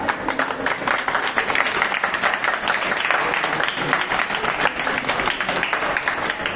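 A whole film set crew applauds together with dense, continuous clapping from a crowd that holds steady and nearby throughout.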